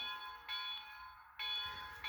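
A Bachmann Spectrum 2-6-6-2 model steam locomotive's SoundTraxx Tsunami 2 bell rings in steady, bright tones, clanging in repeated bursts with short gaps, fairly quiet and alone.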